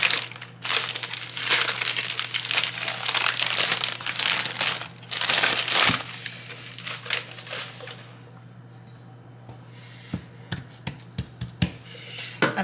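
Crinkly plastic bag of sugar cookie dough torn open in a home kitchen, a dense burst of crackling and rustling that fades into a few sharp separate crinkles and taps toward the end, close and fairly loud with no talking.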